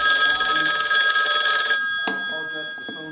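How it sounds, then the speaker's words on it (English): A telephone rings steadily and loudly during a sewer line camera inspection, its bright repeating bell tones filling the first half before cutting off, followed by a few faint knocks and low background noise. "Apologize for the ring of the phone."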